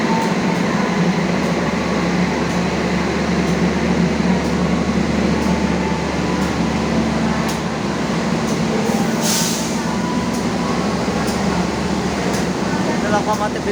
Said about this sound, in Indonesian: Oke, KA Joglo Semarkarto-nya siap diberangkatkan.